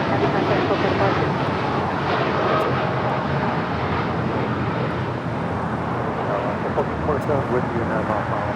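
An airliner departing LAX roars as a loud, steady broadband engine rumble throughout, with faint radio chatter beneath.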